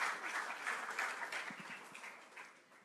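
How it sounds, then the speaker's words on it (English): Audience applause at a city panel discussion on coordinating care for children, youth and families, a steady, soft wash of clapping that fades gradually over a few seconds. "we should clap for that"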